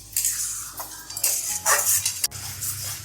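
Lote fish bhorta being stirred and mashed in a pan with a metal utensil, giving a few close scraping and clinking strokes over a short stretch, with no talking.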